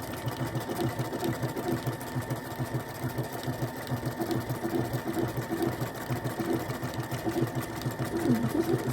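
Domestic sewing machine running continuously while stitching a decorative stitch on dress fabric, a steady close mechanical whirr with rapid needle ticking throughout, no talking.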